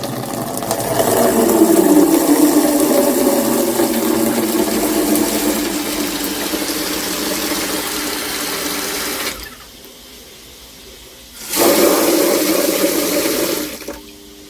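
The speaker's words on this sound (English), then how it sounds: "Let's try the tap." Water running from a bathroom tap in a home in Thailand, a steady loud rushing flow that stops for about two seconds, then resumes briefly before ending.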